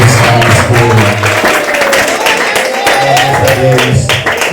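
A church congregation breaks into a short round of applause during a sermon, dense clapping mixed with voices and a sustained organ or keyboard tone underneath.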